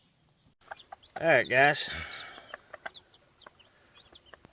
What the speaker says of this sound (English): There you can see mama hen getting the eggs out and them little chicks getting them a bite and running.